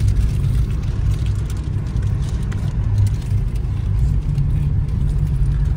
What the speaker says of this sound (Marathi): तिकडनं समोर येणाऱ्या गाड्या इतक्या फास्ट आहेत ना